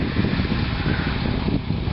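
A pressurised pump line on a winter drilling rig in Maple Creek blows over during a land spread, making a loud, steady rushing roar with a deep low rumble that runs unbroken throughout, with no voices.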